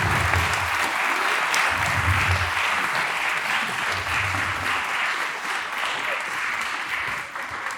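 Loud, sustained applause fills a church during a concert as the audience cheers judokas in kimonos, a continuous dense clapping wash with low rumbling underneath that holds steady throughout.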